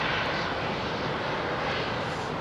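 An aircraft departing Heathrow runway 27R in London makes a loud, steady broadband engine roar that holds evenly throughout and is heard alone without talk.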